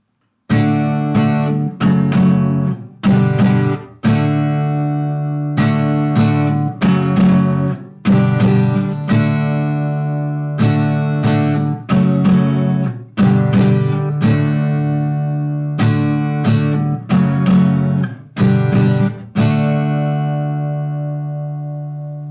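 Guitar chords strummed in a steady rhythm, each ringing briefly before the next, repeating through a short progression with no voices.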